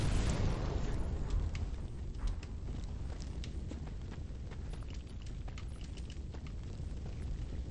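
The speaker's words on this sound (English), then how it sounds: "Time for the bombs, too." A bomb going off in Dark Souls, opening with a loud, heavy boom that rumbles and decays, followed by a lingering low roar and scattered clicks and creaks.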